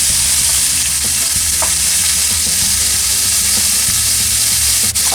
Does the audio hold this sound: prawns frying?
yes